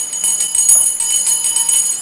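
First-graders at school ring a small handbell, producing a bright, rapid, continuous jingling close up with no talk over it.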